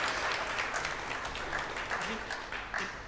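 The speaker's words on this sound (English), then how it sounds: "You can applaud that." Clapping from a small group after a sight-read music performance during a live stream, moderately close, with voices talking over the applause.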